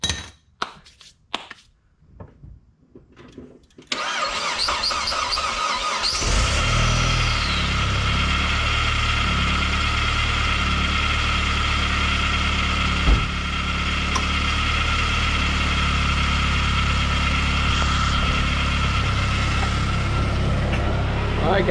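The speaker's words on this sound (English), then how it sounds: "there's the engine. That's what it sounds like." Several seconds of scattered clicks and clunks, then a Saab 9-3 engine, suspected to be failing, cranks and catches, settling into a loud, steady idle that runs on.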